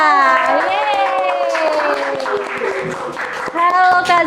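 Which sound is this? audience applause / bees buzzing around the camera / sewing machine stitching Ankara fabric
audience applause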